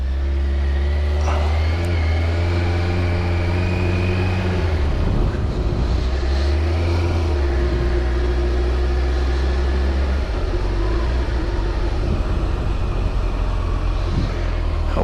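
A Kawasaki ZX-14R motorcycle rides along an Arizona country road, its engine a loud, close, steady drone that dips and climbs in pitch around gear changes, with wind rush underneath.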